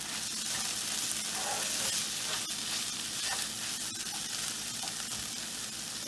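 Vegetable cheese pasta sizzles and hisses loudly and evenly in a pan while it is stirred, a dense frying noise with faint scraping underneath and no talking.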